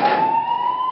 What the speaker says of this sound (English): Mr. Belinsky, I think I hear some sirens